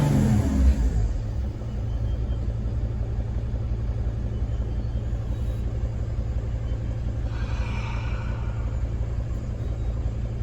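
Mercedes Sprinter T1N diesel engine idling with a low, steady rumble, a slight rise in revs near the start, heard close and alone without talk.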